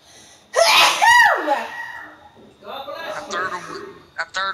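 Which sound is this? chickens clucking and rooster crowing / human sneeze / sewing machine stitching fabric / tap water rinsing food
human sneeze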